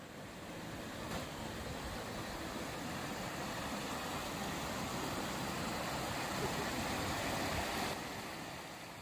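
Continuous rushing water from a river beside a wild camp in the Peak District, flowing steadily in the background, a soft broadband wash with no distinct breaks.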